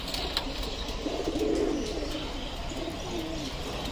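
Racing pigeons returning home after a 10 km toss, with soft low cooing clearly heard over steady outdoor background noise, a few close coos in the middle.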